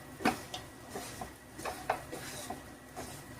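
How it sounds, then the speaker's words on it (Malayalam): A spoon stirs moringa chicken masala with Kashmiri chilli in a pan, making soft, irregular clinks and light scrapes against the metal, faint and close with no voice over them. "ഇനി അങ്ങോട്ട് ഇളക്കി"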